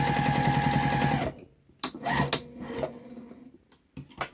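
A sewing machine stitches a quilt-as-you-go table runner sewn from scraps, a rapid mechanical whir that runs briefly then stops, followed by a few short bursts and clicks of the machine and handling.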